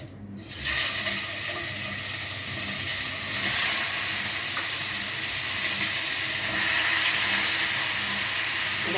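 Chicken placed into a hot pot with flour, cardamom, mastic and bay leaves: a sudden loud, steady sizzling hiss that starts almost at once and carries on evenly throughout.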